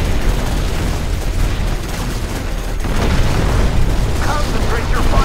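Dense battle din from United Faction, Mission 7 Atomic Vigilance on Hard, with continuous booms, bursts and gunfire rolling loudly and steadily, a voice speaking over the fighting near the end.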